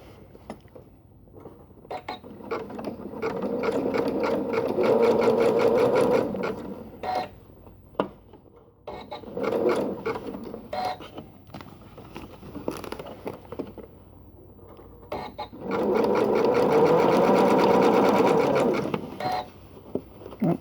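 A sewing machine zigzag-stitches quilted fabric for a tote bag, whirring in two long mechanical runs, one early and one late, with shorter stops, starts and clicks between them.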